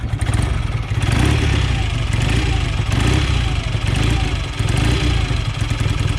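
A BSA A65 Lightning motorcycle engine, freshly rebuilt, fires on the first kick and settles into a steady, loud, close-up running beat with mechanical clatter and slight rises in revs.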